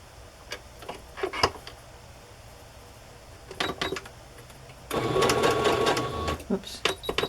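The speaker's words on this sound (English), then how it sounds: "This one has a little square patch on it, so I'm going to sew that on first." A home sewing machine stitches a small square fabric patch onto a Christmas journal page, whirring in short bursts and then one longer steady run, close and fairly loud, with a little quiet talk between runs.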